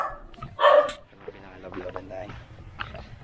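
During Christmas caroling, a dog barks once, sharp and loud, and people talk around it while faint background noise continues.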